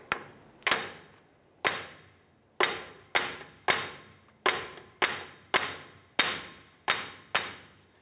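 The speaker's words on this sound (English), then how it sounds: "I wanna go ahead and tap the backside here to try and pop this off of that stub shaft" Sharp metallic hammer taps ring out, knocking a CV axle off the stub shaft of a Ram 1500, about a dozen strikes at an uneven, deliberate pace, loud and close with quick decays.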